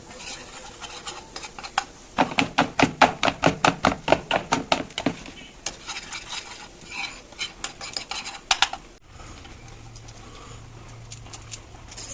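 Potato filling for aloo chop stirred in a pan with a small spoon: a rapid, rhythmic run of close metallic scrapes and clinks, then sparser knocks before falling quiet.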